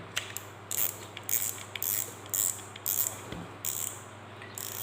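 An Exori Serenity fishing reel's ratchet clicks in rapid bursts as the line is pulled, a series of crisp mechanical clicking runs separated by short pauses, close and fairly quiet.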